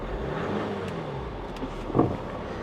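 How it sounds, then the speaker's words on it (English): Yellow Hummer with a warning light, idling nearby at a salvage auction yard, its engine giving a low steady rumble that rises in a short rev near the end, with no talk over it. "Let me rev it up a little."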